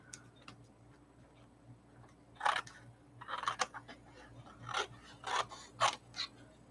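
Scissors trimming the edge of collage paper, with short snips and rustles coming in scattered bursts that get busier in the second half, close and fairly quiet, with no voices.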